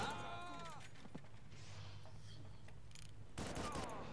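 Faint gunfire from above in the video game Far Cry: a few scattered shots amid quiet game ambience, with a sharper burst near the end.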